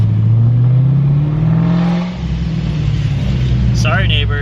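Car with straight pipes, full bolt-ons, camshafts and a Procharger revving loudly up close, the engine pitch climbing then dropping, with a brief whoosh near the end from a Big Red blow-off valve.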